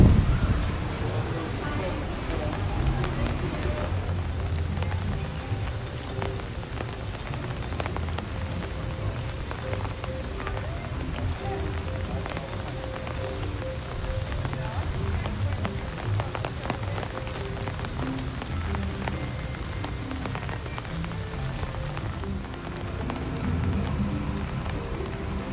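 Steady rain falls outdoors at a theme park on a wet evening, a constant hiss of drops on hard surfaces with a murmur of people in the background.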